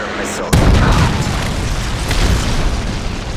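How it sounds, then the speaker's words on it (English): A Predator missile strikes in Call of Duty MW3 multiplayer, landing as one loud, close boom that rolls on into a rumbling tail. "Friendly Predator missile."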